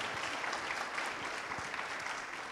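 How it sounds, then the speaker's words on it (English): A chapel congregation claps together at a university service, a dense, steady wash of applause that fills the room throughout. "Would you clap your hands one more time for Mrs. Crystal Brown Tatum?"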